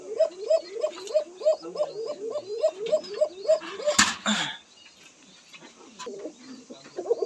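Fancy pigeons at a pigeon farm coo in a quick, regular repeating rhythm, then a sharp slap interrupts and softer cooing continues; a voice speaks over it.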